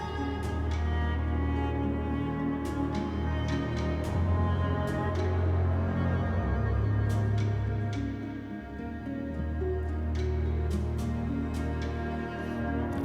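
Dense orchestral video game score blending live orchestra with sampled instruments, with sustained low strings and layered harmonies plus occasional bright accents, full and steady throughout with a slight dip near the middle.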